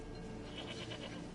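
A goat in The Witcher 3 lets out a faint, wavering bleat that pulses a few times over the steady background of the game, with no talking.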